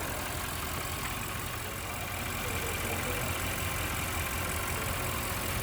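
A 2015 Audi A8 L engine idles steadily with a smooth, even hum and a faint mechanical tick, continuous for several seconds with no voices.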